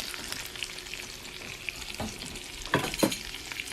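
Onions and potatoes cooking on low heat for smothered potatoes make a gentle sizzle, with occasional stirring scrapes and a couple of louder clatters near the end.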